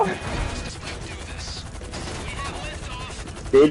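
Gunfire during a Fleeca Bank robbery in GTA Online, a dense continuous rattle of shots under excited talk throughout the short burst, ending in a sharp louder hit.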